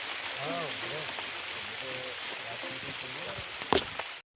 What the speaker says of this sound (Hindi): ये देखिए दोस्तों, जो कितनी भयंकर अभी बरसात है